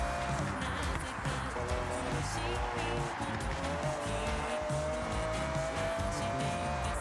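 A Lamborghini Countach drives in Forza Horizon 5, a continuous engine drone with tire squeal and skidding, fairly quiet and steady throughout.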